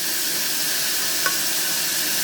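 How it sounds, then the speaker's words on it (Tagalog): Carrots and corn sautéing in a pan with garlic, a loud, steady sizzle and hiss throughout with a faint stir near the middle, no voices. "Carrots, mais, saka sinutay ko lang sa bawang."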